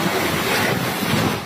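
Typhoon Marce's wind roars over the coast of Cagayan, Philippines, with crashing surf beneath it, a loud, unbroken buffeting rush with no voices.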